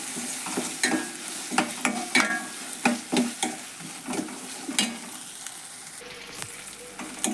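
Tomato mixture for North Karnataka avarekalu palya fries in oil with a steady sizzle, while a spoon scrapes and taps the pan in an irregular stirring rhythm, close and moderately loud.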